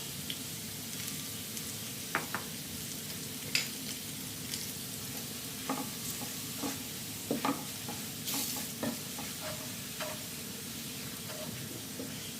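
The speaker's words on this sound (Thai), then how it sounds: "ผัดให้หอมเลยค่ะ" Garlic and curry powder stir-fry in a hot pan for a curried crab dish. A steady sizzle runs underneath while the spatula scrapes and clacks at irregular moments, close and alone with no talking.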